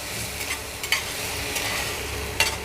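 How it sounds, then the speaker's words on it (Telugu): A ground paste mixture is stirred into an ivy gourd curry in a pan, giving a steady sizzle and frying hiss broken by a few sharper scrapes of the spoon against the pan. "ఈ రుబ్బుకున్న మిశ్రమం వేస్తున్నాను ఇది అడుగు పట్టకుండా కలుపుతూనే ఉండాలి"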